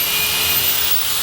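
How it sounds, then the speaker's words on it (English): Steady, continuous abrasive rush of sanding on a boat's rub rail during a rib retube, close and even in loudness with no pauses or voices across the short stretch. "Now we need to start sanding it down."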